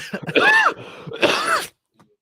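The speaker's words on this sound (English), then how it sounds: "I do actually have to cough." Two harsh, throaty coughs or throat-clears, close and loud, each a short burst, followed by silence.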